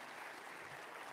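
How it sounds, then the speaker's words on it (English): An audience at a town hall applauds in a dense, steady wash of clapping that lasts the whole brief moment, fairly distant and soft. "let's give a round of applause"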